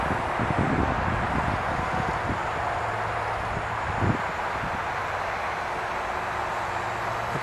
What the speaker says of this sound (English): It's kind of gloomy, windy for sure.